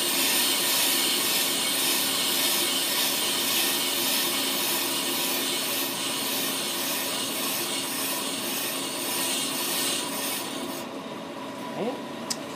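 The cutter head of a brake lathe machines a brake rotor, a continuous loud grinding whir with a rasping edge that drops away near the end, leaving a brief quieter tail.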